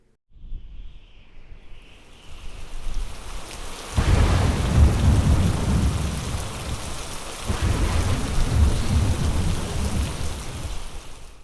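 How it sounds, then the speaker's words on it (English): A thunderstorm sound effect played at a school church assembly: steady heavy rain builds in, then loud thunder rumbles crash in twice, deep and booming over the continuous downpour. "in a moment, the storm is going to come."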